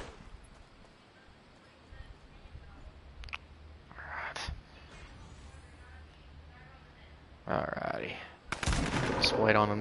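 Gunfire from a distant firefight among players in the Fortnite battle royale video game, with scattered faint shots early, then louder bursts of rapid fire toward the end over low background ambience.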